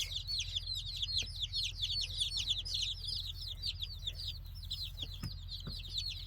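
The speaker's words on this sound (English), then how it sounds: "These are our new layer chicks, Buff Orpingtons." Buff Orpington layer chicks peep constantly in a dense, high chorus of overlapping chirps, close by over a low steady hum, with a few soft thumps.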